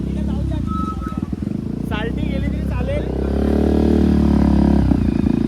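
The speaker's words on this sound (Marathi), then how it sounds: "हे सायलेन्सर ऐक ना." A motorcycle with a loud, modified exhaust silencer idles and revs steadily nearby during a Dahi Handi festival outing, its low rumble continuous throughout while people talk over it.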